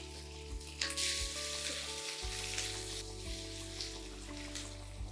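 Sliced onion and curry leaves fry in hot oil for egg thokku, a soft, steady sizzle with brief louder bursts, set against a low steady hum in the background.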